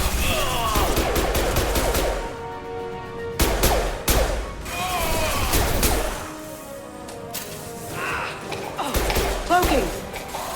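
Mass Effect 2 combat erupts in repeated bursts of close, heavy gunfire and thudding impacts, broken by short lulls, with voices calling out between volleys.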